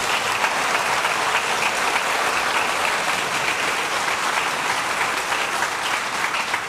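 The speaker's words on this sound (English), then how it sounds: "Let's give them a round of applause again." Sustained applause from a large audience at the 2024 Ohio State of the State address, a dense, steady roar of clapping that holds at an even level throughout, with no speech over it.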